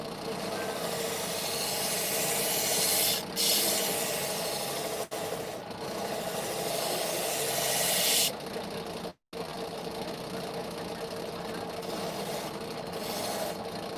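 A knife sharpening machine running at slow speed, 1800 RPM, giving a continuous close grinding rasp of steel on the wheel with brief breaks and a short silent gap, no talking.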